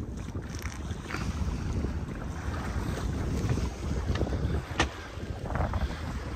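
A sailboat motors along the coast near Samos under its engine, a low steady drone mixed with wind buffeting the microphone and water washing past the hull, no talking.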